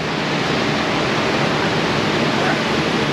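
Steady, broadband trickle of oil draining from the 1 1/8 inch drain plug of a flatbed tow truck, a continuous splashing stream heard close and alone, with no talk.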